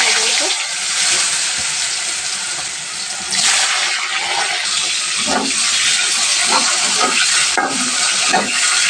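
Pointed gourd (potol) slices frying in hot oil for a tilapia and potato curry, a steady broad sizzle with occasional stirring scrapes and crackles throughout.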